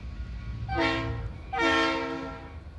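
Two short toots of a model train whistle, each a bright, reedy blast about half a second long, separated by a brief pause over a low rumble.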